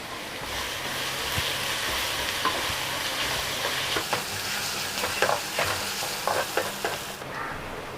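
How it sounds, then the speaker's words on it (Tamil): Chopped onions sauté with a pinch of salt in a hot pan for a Tamil egg curry, giving a steady, close frying hiss throughout, broken by sharper scraping strokes of a spoon stirring, busiest toward the end. "வெங்காயம்லாம் கொஞ்சம் நல்லா வதங்கி வரணும்"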